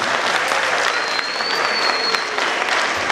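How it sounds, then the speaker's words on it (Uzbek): Audience applause at a live Uzbek concert, a steady, dense clapping from a crowd that holds evenly loud throughout without any break. "Chiroyli qarsaklar bo'lsin."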